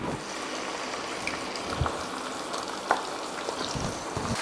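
Fried onions hitting hot ghee in a pan give a steady, close sizzle with a few brief pops and spatters, and no voices are heard.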